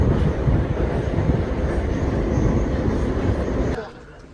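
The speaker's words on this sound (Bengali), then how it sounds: "বাট খুব আওয়াজ করে এই মেট্রোটা" A metro train in Tashkent, Uzbekistan, rumbles loudly and steadily along the track, a dense continuous roar that cuts off abruptly near the end.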